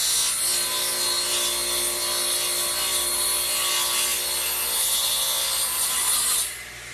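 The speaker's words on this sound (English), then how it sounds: "So I'll just slide it over and run the saw through." A radial arm saw cutting through wood backed by plywood for a trestle table project, a loud continuous whirring rasp held steady for about six seconds before the cut finishes and the sound drops off.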